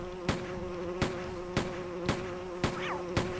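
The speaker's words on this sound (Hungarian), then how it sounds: "Megint hallom a szúnyogot," A buzzing insect drones steadily in a video game, a close, thin continuous hum broken by sharp repeated gunshot-like clicks about twice a second.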